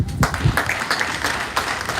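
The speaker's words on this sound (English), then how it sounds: "Doesn't that require a clap?" Scattered, uneven clapping from a crowd gathered for a speech, a brief burst of claps at moderate loudness.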